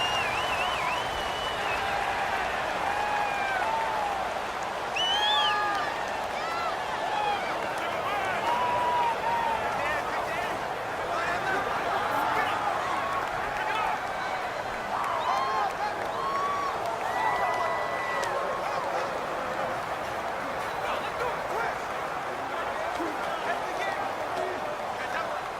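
Stadium crowd noise from a Madden 19 football game plays as a steady roar of cheering and clapping, with voices talking over the top throughout.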